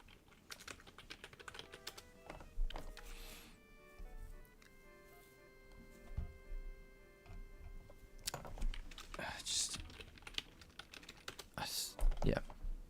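Computer keyboard typing in bursts of quick clicks, close and fairly quiet, with pauses and a few soft desk sounds between runs, no talking.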